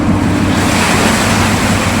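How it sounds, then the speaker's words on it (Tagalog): Seawater flooding into a ship during bad weather, a loud, constant churning rush of water with a deep low roar and no break. "Pumapasok na yung tubig."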